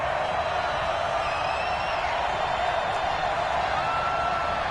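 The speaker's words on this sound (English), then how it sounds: "the crowd getting into it as we come up on a big 3rd down" Stadium crowd noise in an American football video game, a dense, continuous roar building before a big third down, steady and loud throughout with no distinct speech on top.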